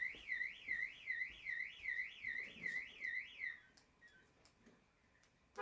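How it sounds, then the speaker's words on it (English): A small electronic alarm chirps in a steady warbling pattern, about nine rapid repeated cycles, then stops, leaving faint room noise; fairly quiet and close, no talking. "There's the alarm going off telling me it's time to log off"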